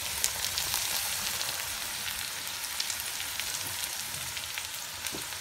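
Peas fry in plenty of oil with a dense, steady sizzle and crackle, crisp pops scattered throughout, close and continuous with no speech.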